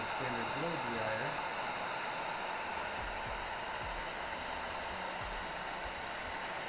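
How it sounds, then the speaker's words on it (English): Steady, loud blowing roar of a heat gun running continuously while drying a tattoo stencil, with a faint low voice briefly under it near the start. "I'm applying a fair amount of heat here from the heat gun"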